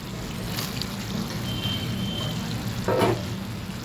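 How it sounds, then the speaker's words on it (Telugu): Dried bommidi fish frying in a pan of aubergine and tomato curry, giving a steady close sizzle and bubbling throughout with a brief louder burst near the end. "చేపలు వేస్తున్నానండి బొమ్మిడి చేపలు"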